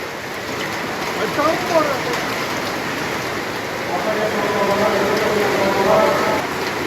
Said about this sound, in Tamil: மாவட்டத்தின் பல்வேறு பகுதிகளில் பலத்த மழை கொட்டி தீர்த்தது